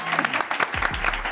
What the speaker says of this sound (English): Can we get a round of applause for our guests, please?